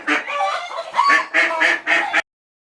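Hen clucking and squawking in a short burst of loud, close calls, several rapid clucks in a row before abruptly stopping.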